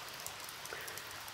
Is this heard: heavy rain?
yes